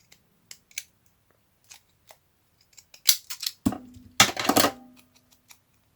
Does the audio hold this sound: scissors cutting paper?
yes